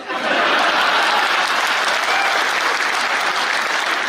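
Loud, dense applause from a large audience fills a Hindi comedy poetry event, rising quickly and holding steady as continuous clapping from many hands.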